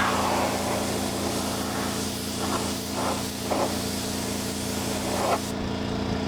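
A spray gun lays clearcoat onto a track bike fuel tank with a steady, continuous hiss over a low hum, holding even throughout with only slight swells.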